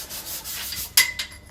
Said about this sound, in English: Sanding. Sanding grills.